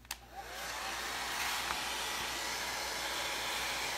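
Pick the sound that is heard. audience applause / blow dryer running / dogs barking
blow dryer running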